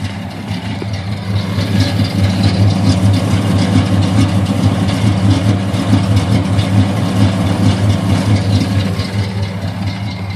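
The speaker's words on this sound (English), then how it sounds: "Starts right up. Has a fairly smooth idle." Car engine with a Flowmaster 40 exhaust idling smoothly and steadily, a close, continuous low rumble that holds even throughout with no revving.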